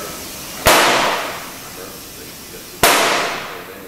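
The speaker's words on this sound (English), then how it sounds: "When installing the bead, you'll hear 2 audible snaps on a brand new tire" Two sharp, loud snaps as the bead of a brand-new tire seats onto the rim during inflation, spaced about two seconds apart over a steady hiss of air.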